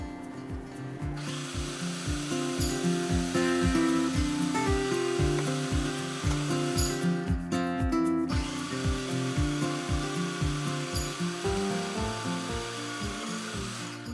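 A food processor slices huge cucumbers for bread and butter pickles, its motor whirring under a rapid, regular series of chopping thumps throughout.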